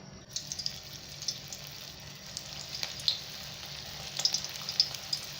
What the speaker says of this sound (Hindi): तो अब ये मंचूरियन बॉल्स रेडी है फ्राई करने के लिए। अब हम इसे फ्राई कर लेंगे।